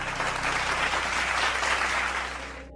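Applause, a short dense burst of clapping that holds steady and then cuts off abruptly at the end.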